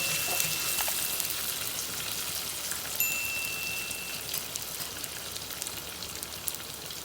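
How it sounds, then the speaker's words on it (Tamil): Mustard seeds, green chillies and curry leaves sizzle in a pan with a soft, even crackling hiss dotted with small sharp pops, fairly quiet and with no voices. "நல்லா கடுகு பொரிஞ்சு பச்சை மிளகாவும் நல்லா வதங்கின பிறகு"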